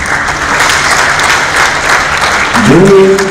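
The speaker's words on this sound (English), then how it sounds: "A round of applause, please." Audience applause at a graduation ceremony in Dubai, loud and sustained across the hall, with a voice briefly speaking over the clapping toward the end.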